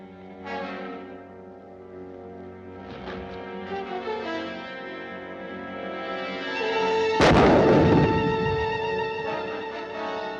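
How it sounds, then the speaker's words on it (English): A hand grenade blast from a 1952 film serial sounds as a sudden loud boom with a rumbling tail, rising out of dramatic orchestral music that plays throughout. "Give me a hand grenade."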